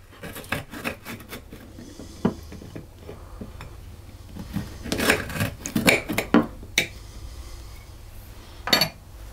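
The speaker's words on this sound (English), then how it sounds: "I'm going to take a knife and see if I can cut one to show you the insides" A knife cuts through a chocolate marshmallow teacake, giving close scraping and crunching strokes with a few sharper clicks against a plate or board, irregular and fairly loud, no voices.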